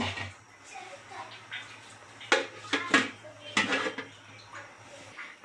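A metal lid is set onto a pot of boiling pasta, making a few clanking metallic knocks and rattles close by over a faint background hum.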